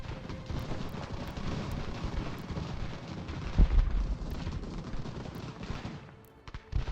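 Mortar and artillery fire in the strategy game Ultimate General: American Revolution, a rumbling barrage of distant booms and crackling volleys, with one heavier blast midway and a brief lull near the end.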